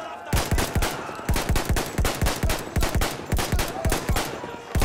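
Repeated gunfire in the Battlefield 1 video game, a rapid run of about fifteen sharp, loud shotgun-like blasts in a steady rhythm, close up and dominating, with no talk over it.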